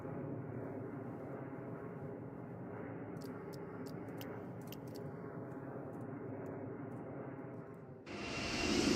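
An Airbus A319 with IAE engines landing in a flight simulator replay: a steady, moderate jet engine drone with a few faint ticks, then a sudden louder rush of broadband noise near the end.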